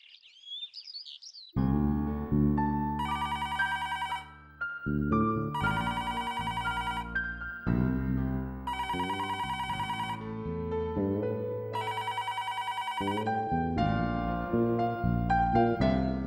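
An electronic telephone ring repeats in regular bursts of bright chiming tones over a steady synthetic backing, loud and close with no voices.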